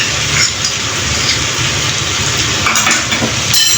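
Garlic, dried chili and cumin pastes frying in hot oil for a Bengali fish curry, a steady close sizzle with faint stirring clinks and no talk.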